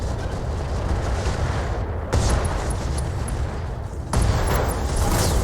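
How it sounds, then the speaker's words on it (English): Ammo explosion in the modded BattleTech video game (Roguetech): loud, rumbling in-game blasts and weapon fire, with two sharp new bursts that each jump louder and then sustain a heavy roar. "he's out, ammo explosion"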